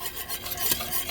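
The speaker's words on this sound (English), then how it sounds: "you have to just keep whisking" Whisk scraping through flour and liquid for oxtail gravy in a pan, a close, steady rasping stir with a brief louder stroke midway.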